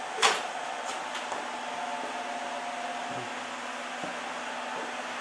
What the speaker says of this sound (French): Il fait marcher le ventilateur